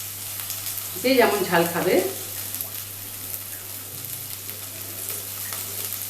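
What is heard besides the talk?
onion and green chili frying in a pan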